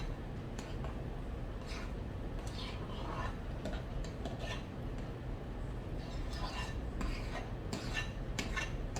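A spoon stirs Cool Whip and cream cheese by hand in a bowl, giving a run of soft, irregular taps and scrapes against the dish over a low, steady background hum.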